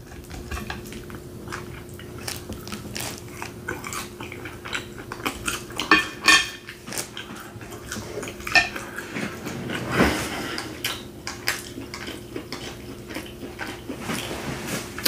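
Cutlery scraping and clinking on a plate while a cowboy steak is cut, with chewing between, a string of sharp close taps and scrapes at irregular intervals over a quiet background.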